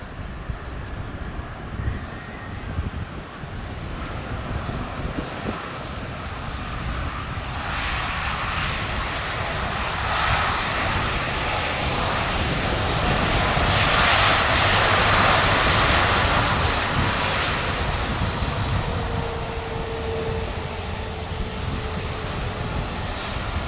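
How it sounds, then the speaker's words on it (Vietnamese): Turkish Airlines Airbus A350-900 landing on runway 25R at Tan Son Nhat airport after a flight from Istanbul, a steady loud jet roar building to a peak midway and then easing off, with no talk. "Chiếc máy bay đang hạ cánh xuống đường băng 25 phải,"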